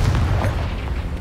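A Confringo fire spell explodes in Hogwarts Legacy, a heavy, booming blast with a deep low rumble that stays loud throughout the brief moment.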